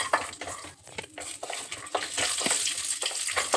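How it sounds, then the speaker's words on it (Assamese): Cashews frying in ghee in a pan, a steady close sizzle with frequent stirring scrapes and light clinks of a utensil against the metal throughout. "প্ৰথমতে ঘিত কাজুখিনি অলপ ৰঙচুৱাকৈ ভাজি লৈছোঁ।"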